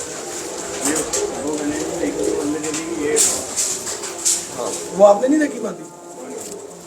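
Pigeons cooing softly near a man's old loft, low murmuring coos under close conversation in Hindi-Urdu.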